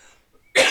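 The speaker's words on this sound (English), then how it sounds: "I'm going to have a quick cough" A single short, loud adult cough rings out close up after a brief quiet pause, with no talking over it.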